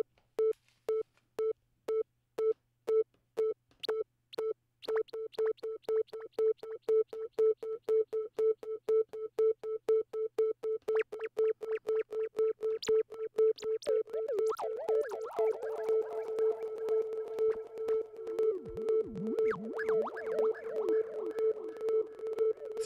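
Short sine synth stabs in Bitwig Studio repeat at a steady pulse through a stereo delay, the echoes thickening into a dense, smeared wash of clean electronic tones.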